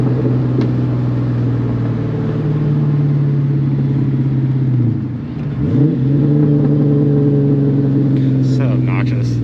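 A Mustang engine revs hard with a loud, steady, close rumble, dips briefly, then climbs again as the car accelerates.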